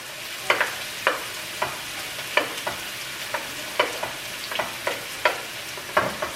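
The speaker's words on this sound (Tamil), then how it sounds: "இப்போ வந்து வெங்காயத்தை போடுறோம்" Onions with fennel and spices frying in a pan, a bright sizzle with sharp, regular spatula scrapes about every half second, close and clear with no talking.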